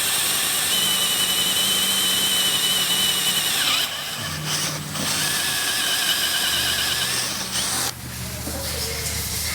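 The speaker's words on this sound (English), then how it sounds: "A lot of material to drill through with this top case." A step drill bit bores through a plastic motorcycle top case, giving a loud, continuous whining grind that pauses briefly around the middle and again near the end as the bit is repositioned.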